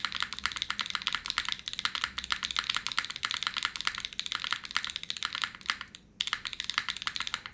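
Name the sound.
mechanical keyboard typing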